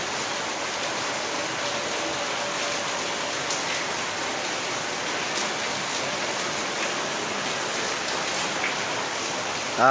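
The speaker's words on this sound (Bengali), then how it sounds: "অনেকক্ষণ ধরেই আসলে বৃষ্টি ঝরছে" Steady rain falls through sunshine over Dinajpur, a dense, even hiss of drops striking surfaces that runs unbroken and fairly close, with no voices.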